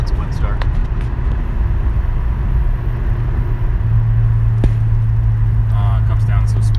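A rotary-engined Mazda Eunos Cosmo cruises with a steady low rumble and road noise underneath, while people talk over it almost throughout.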